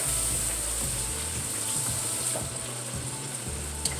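Steady hissing sizzle of garlic frying in hot oil, close and continuous, with a faint clink near the end.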